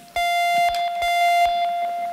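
A steady electronic tone with bright harmonics held over a series of quick pulsing beeps, loud and repeating like a dub siren effect.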